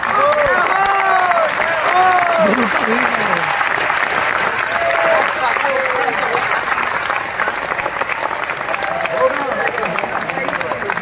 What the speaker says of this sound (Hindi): अच्छी चीज के लिए ताली को बजाओ।